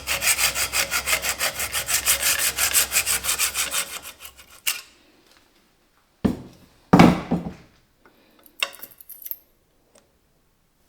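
A slitting saw cuts through a metal part on a lathe, a fast rhythmic rasping for about four seconds, close and loud, then stopping, followed by a few scattered clunks and handling noises amid silence.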